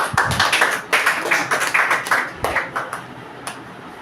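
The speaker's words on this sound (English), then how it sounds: "Give him a big round of applause." An audience claps for a student speaker at a public speaking seminar, a close, loud run of sharp individual claps from a small group, uneven in rhythm, with no talking.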